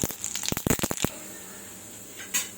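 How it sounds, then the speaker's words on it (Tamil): Mustard seeds splutter in hot oil in a kadai, a quick cluster of sharp crackling pops that dies down, followed by one more brief burst. "எண்ணெய் காஞ்ச உடனே கடுகு போட்டுடலாம்."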